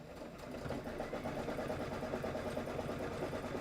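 A sewing machine stitches fabric to tack down and quilt a table topper in white thread, running in a fast, even, continuous chatter at low volume with no talking.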